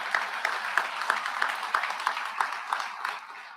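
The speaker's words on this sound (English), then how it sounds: "you got to give Judge Mack some applause" An audience claps at a sheriff's office BPOC class graduation ceremony, a steady wash of applause with a few sharper claps standing out at a regular beat, sustained evenly until it fades slightly at the end.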